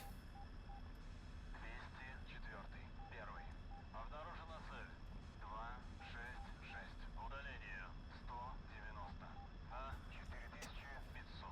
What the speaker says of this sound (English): We are already kind of cleared for takeoff, so we are just going to take off.